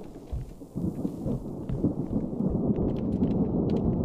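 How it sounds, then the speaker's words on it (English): Rain and rolling thunder in the video game Within Skerry, a steady dense wash of rainfall with low rumbling swelling underneath, sustained and fairly loud with no talk. "now it's fucking raining outside"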